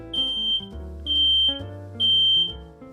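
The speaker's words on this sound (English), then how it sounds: "If you hear a beep," Smoke alarm chirping three times in a steady pattern, each high, piercing beep lasting about half a second and roughly one second apart, clear and close over a continuous low background hum.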